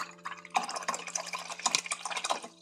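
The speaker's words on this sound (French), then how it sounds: "On rince le pinceau" A watercolor paintbrush swished and rinsed in a container of water, with close, soft splashing and trickling bursts under a faint steady hum.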